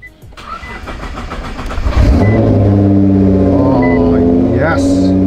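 A Subaru WRX engine cranks and catches, then settles into a loud, steady idle with a deep rumble, close up, with a voice speaking briefly during the start.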